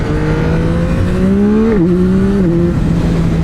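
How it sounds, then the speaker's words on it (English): A 2024 Yamaha MT-09 SP motorcycle downshifts on full throttle, the auto blipper firing two quick rev blips between a loud, close, steady engine howl. "the fact that you can downshift on full throttle like that"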